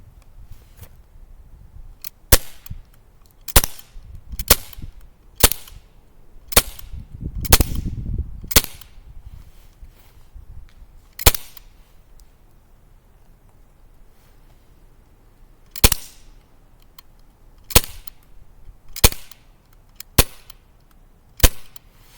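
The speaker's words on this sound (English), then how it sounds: "Load it up. Let's get to shooting everything on blowback." Glock 19 airsoft pistol firing on blowback, sharp snappy cracks that come singly and in quick clusters with gaps between, close and loud with no talking.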